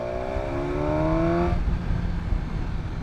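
A 2019 BMW S1000XR inline-four motorcycle in third gear around 3,500 rpm winds up with a rising engine whine that fades into broadband road and wind rush, amid busy rush-hour traffic.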